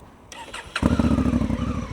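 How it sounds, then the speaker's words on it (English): A high-mileage Honda Africa Twin motorcycle, still a bit smoky on startup, cranks briefly and catches, then settles into a loud, close, steady idle with a rhythmic pulsing throb. "There's an Africa Twin with lots of miles on it. Still a bit smoky on startup."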